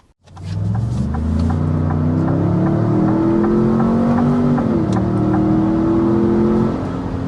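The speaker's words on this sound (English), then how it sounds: "that was taking us up to 60 miles an hour, and we were going uphill as well" A 2025 Ford Expedition or Lincoln Navigator accelerates uphill to 60 mph, its engine swelling into a loud steady roar with rising pitch and a brief shift partway through, heard from inside the cabin with no talking.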